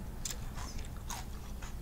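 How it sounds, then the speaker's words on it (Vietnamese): Someone bites into grilled clam topped with scallion oil and small chili peppers, giving a few brief crisp crunches over a steady low background hum. "Cho các bạn cắn miếng rồi."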